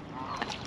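Canada geese honk on a river during a kayaking trip, a short burst of nasal honks heard at a moderate distance over soft water and wind noise.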